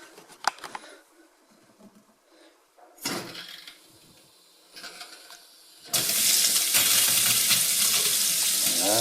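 Kitchen mixer faucet with air trapped in the pipes, sputtering and spitting in irregular bursts after being opened, then settling into a loud, steady gush of running water.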